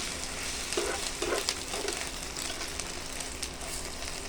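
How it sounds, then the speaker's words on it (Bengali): An egg fries in a pan on a winter morning while khichuri is cooked, giving a soft, continuous sizzle with faint crackles, nearby and fairly quiet, no talking. "ভালো করে উনি ডিম ভাজতেছে।"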